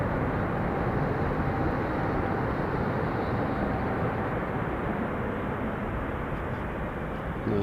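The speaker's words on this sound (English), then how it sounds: "This plane just landed on our left runway." A large plane just landed on the left runway at Chicago O'Hare International Airport, heard as a loud, steady, broad jet roar that holds for the whole stretch with no voices.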